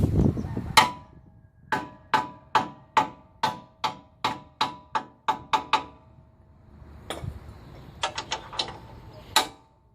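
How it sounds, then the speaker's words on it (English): Repeated sharp hammer blows strike a socket tool driving out the lower ball joint on a Nissan D22 Frontier; a steady series of loud metallic hits, a pause, then a quicker cluster of strikes. "you should use a hammer to do any kind of impact"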